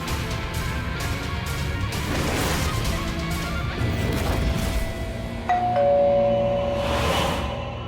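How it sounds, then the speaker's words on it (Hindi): A doorbell rings insistently at a home's front door, a couple of ding-dong chimes cutting through a busy, noisy room background, with a bright sustained chime near the end. "काहे बार बार घंटी बजा रहे हैं?"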